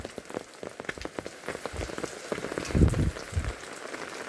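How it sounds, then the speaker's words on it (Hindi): Steady rain patters on a surface outdoors in cool monsoon weather, a dense hiss of drops with a few heavier splashes, constant and close, no voices. "देखो बारिश का मज़े, ठंडा ठंडा मौसम।"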